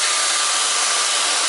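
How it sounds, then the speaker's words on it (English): Belt grinder at full speed with a worn 60 grit belt grinding a small titanium plate gives a loud, steady abrasive whine and hiss close by, unbroken and without talk. "It's just a little plate of titanium, guys. Nothing crazy. There's no magic in this. And a somewhat worn out 60 grit belt. Crank it up to full speed"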